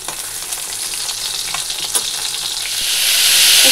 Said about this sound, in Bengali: এখানে শাক ভাজা বসিয়ে দিয়েছি, আর এই যে মাছ ভাজা হয়েছে।